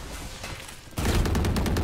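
A shotgun fires in a Valorant match on the Pearl map: a loud, sudden blast after a quieter lead-in, followed by rapid gunfire cracks close by.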